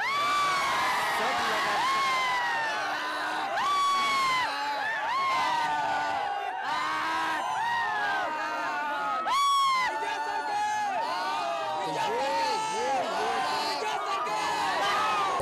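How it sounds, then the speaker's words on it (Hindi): Crowd of 11th and 12th grade students cheering, whooping and chanting slogans for Vijay sir at a farewell, a dense, continuous roar of shouting young voices with excited calls rising over it, steady and close throughout. "जोश से भरे ये बच्चे लगातार विजय सर जिंदाबाद के भी नारे लगा रहे हैं"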